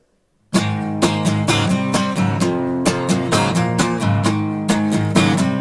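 A loud electric guitar riff with steady, rhythmic strummed chords hitting in a driving pulse and no singing.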